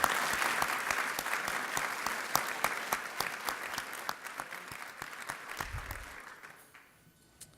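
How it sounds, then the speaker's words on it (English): Applause from a conference audience at a business forum, many hands clapping in a dense, even patter that gradually thins and fades out over several seconds. "Let's please have a quick round of applause to thank them for making this happen."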